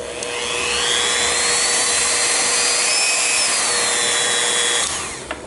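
A high-speed rotary tool fitted with a tungsten carbide cutter trims kayak plastic, whining loudly and continuously for about five seconds with slight pitch shifts under load before spinning down, close with no talking.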